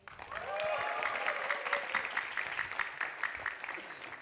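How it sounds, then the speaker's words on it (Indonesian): Audience applause at an Indonesian stand-up comedy show, a steady wash of many hands clapping that swells near the start and carries on evenly, with faint crowd voices mixed in. "Tepuk tangan sekali lagi untuk Ridwan Rewe."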